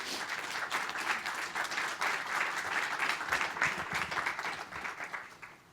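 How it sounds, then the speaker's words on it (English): An audience claps in steady, sustained applause to welcome a discussion panel after a film screening, dense and even for several seconds before tapering off at the end. "Please join me in welcoming this panelist, this panel with a round of applause."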